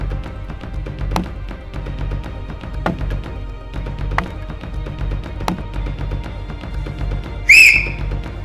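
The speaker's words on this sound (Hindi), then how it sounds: "सीटी क्यों बजाई?" A single sharp whistle blast rings out near the end, loud and short, over a steady background of footsteps and faint outdoor forest ambience.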